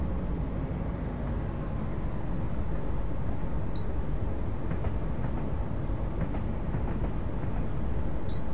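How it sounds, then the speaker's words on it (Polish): A train departs in the Train Simulator video game on a Lowestoft to Norwich route: a steady, loud rumble of wheels and engine runs throughout, with faint rhythmic clicks and a brief high squeal partway through, and no talking. "Wyjeżdża pociąg"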